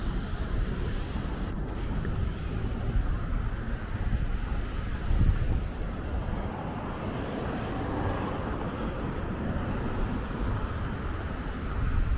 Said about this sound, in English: It's warm and windy, so there's a lot of wind